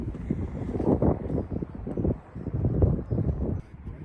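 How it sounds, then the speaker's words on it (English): Gusty wind buffeting the microphone outdoors, low rumbling bursts that swell and fade irregularly over a few seconds. "It's a bit windy."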